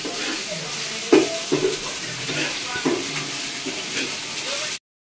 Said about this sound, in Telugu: గిన్నె పెట్టుకొని ఆయిల్ పోసుకొని అందులో ఆనియన్ పేస్ట్, కొంచెం కొత్తిమీర, పుదీనా వేసుకొని ఆ పచ్చివాసన ఆనియన్ పోయేంత వరకు బాగా ఫ్రై చేసుకోవాలి